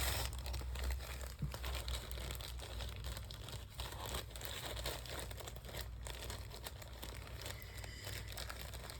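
Close, continuous crinkling of plastic packaging as a package is cut open, with soft rustles and tears and no talking.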